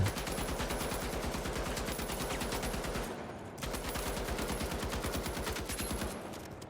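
Sustained bursts of rapid automatic fire from an M60 machine gun in the video game The Finals, a loud, dense, rattling stream broken by one short pause midway.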